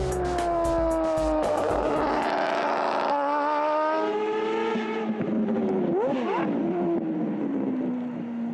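A time attack race car at Sydney Motorsport Park screams at about 9,000 RPM, loud and near, the engine note holding high, then dropping and swooping as it shifts and moves away, with sharp crackles early on.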